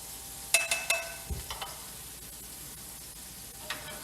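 Onions hit a hot pan with browned pork tenderloin and apples, giving a cluster of sharp pops and crackles at first, then a soft, steady sizzle with a later crackle.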